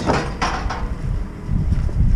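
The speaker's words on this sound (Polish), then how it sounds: "Te drzwi trochę opadły, dlatego tak." A sagging wooden barn door in a cattle barn is pushed shut, giving a couple of scraping, knocking bumps over steady low farmyard rumble, fairly close and moderately loud.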